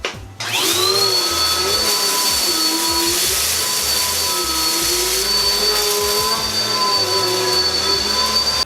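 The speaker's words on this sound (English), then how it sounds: "I should vacuum real quick." A vacuum cleaner starts up and runs steadily with a loud, high whine and a low rumbling drone underneath, close by, with no talking.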